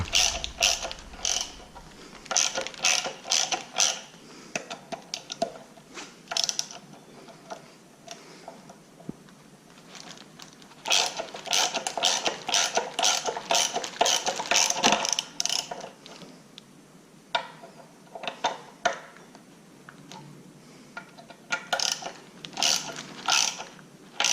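A ratchet tightens a fastener on the supercharger lid of a 2014 Chevy SS with ZL1 lid modifications, clicking in fast bursts separated by short pauses, close and fairly loud.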